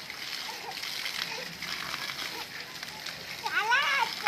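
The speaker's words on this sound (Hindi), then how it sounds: "जोर दी बारिश है बारिश धावण दा मजा ही कुछ ॿिया है" Heavy rain in a village, water splashing and sloshing steadily at close range, with children's and adults' voices talking and calling over it.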